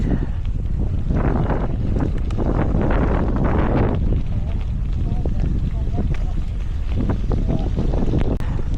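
Wind buffets the microphone in strong, low rumbling gusts on an exposed ridgeline near spinning turbines, loudest early on then settling, with people talking underneath.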